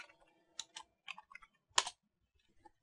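Computer keys are pressed while working in LightWave 11.6 modeling software: a handful of short, quiet clicks in small irregular clusters, with one firmer double tap near the middle, alone in a near-silent room.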